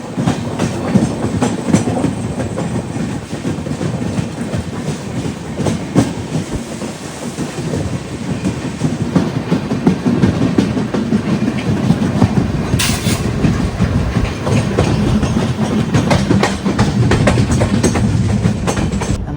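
A Yog Nagari Rishikesh–Trivandrum express rolls along the Konkan Railway toward Ratnagiri in monsoon weather, with a steady loud rumble and rhythmic clickety-clack of wheels over rail joints throughout, heard from on board.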